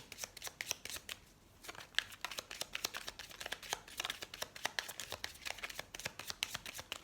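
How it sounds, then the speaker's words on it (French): Tarot cards are shuffled and cut by hand in a quick run of crisp riffling clicks and soft slaps, close but fairly quiet, with no one speaking. "Allez, on va couper le jeu."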